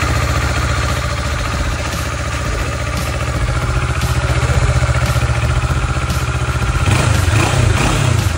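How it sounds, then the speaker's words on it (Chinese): A Kawasaki ER6N 650cc parallel-twin motorcycle engine idles steadily close by, a loud continuous rumble with a slight rise in revs near the end and no voices. "这个就是我所使用来考 B2 的摩托 ，ER6N， 是650cc Kawasaki。"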